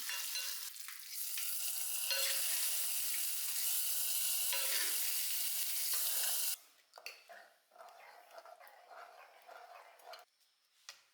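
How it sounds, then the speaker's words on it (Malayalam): Mustard seeds and dried chillies hit hot coconut oil with a loud, dense close sizzle for about six seconds, then it drops abruptly to softer scattered crackles and clinks. "ഇനി വറവിടുകയാണ് അപ്പോൾ വെളിച്ചെണ്ണയിൽ കടുക് വറ്റൽമുളക്"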